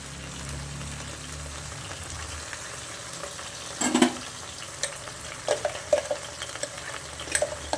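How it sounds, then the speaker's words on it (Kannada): Soft brinjal frying in a pan for brinjal gravy as masala is added, giving a low steady sizzle broken by a few sharp spoon-and-pan clatters near the middle and toward the end, with no talking. "ಇವಾಗ ಮಸಾಲೆ ಹಾಕ್ಕೊತಾ ಇದ್ದೀನಿ"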